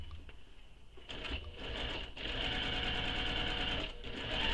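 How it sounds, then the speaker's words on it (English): A sewing machine stitches a crossbody bag, its motor whirring in short bursts that stop and restart, then settling into a longer steady run of rapid needle strokes, close and fairly quiet. "Continue stitching"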